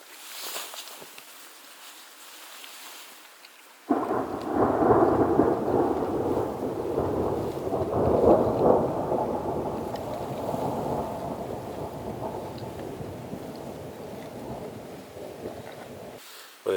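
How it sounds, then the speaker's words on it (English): Thunder rolls among mountain cliff faces in the Montana wilderness, a long, deep rumble that swells abruptly and then echoes and fades slowly over many seconds, heard from a tent vestibule with faint rain and wind beneath. "But it's just nothing like thunder in the mountains."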